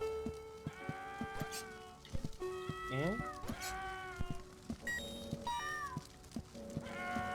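A video game character imitates a cat, giving a series of meow-like calls with rising and falling pitch, moderately close, interspersed with short clicks and thumps from the game.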